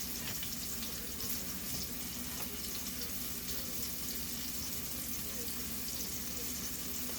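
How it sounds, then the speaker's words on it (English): Flank steak frying in a pan for Mongolian beef, a constant dense hiss of sizzling that stays even throughout, with no clear talking over it. "So we're going to just cook them in here."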